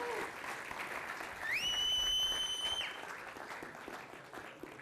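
Audience applause at a conference's closing remarks, moderate and continuous, with a sustained whistle-like tone rising briefly over the clapping in the middle.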